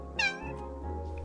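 A single cat meows in the video game Calico, one rising-falling call over a low steady hum of game background sound.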